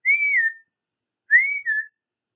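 Two whistled notes heard inside a house, each a clear sliding tone: a longer one first, then after a pause a short rising note followed by a second falling note, moderately loud and alone with no other sound.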